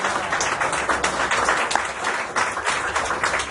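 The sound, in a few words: church congregation applauding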